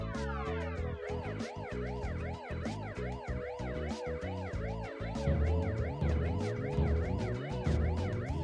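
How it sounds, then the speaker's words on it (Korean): A wailing fire truck siren in an animated children's cartoon sweeps rapidly up and down in pitch, continuous and moderately distant, over low engine rumble and traffic noise. "우와, 소방차"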